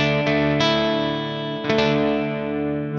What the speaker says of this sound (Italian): Sentite questa punta di distorsione che esce fuori?